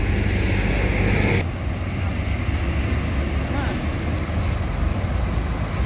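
An Aneka Jaya bus with a front engine, yellow with stripes, rumbles past at close range, a steady broad engine and road roar that shifts in tone partway through as it goes by.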